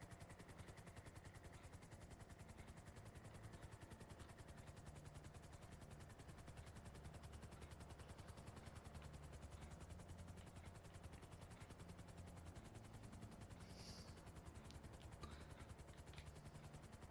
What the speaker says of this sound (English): And now the chopper gives out.